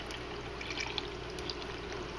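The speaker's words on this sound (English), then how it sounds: "Pour a good amount of tea in like that on your ice." Cooled Thai tea being poured over ice in a glass, a steady soft splashing trickle heard alone at moderate level.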